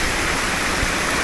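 Small waterfall in dense forest, a steady, close hiss of falling water with no breaks, loud and alone.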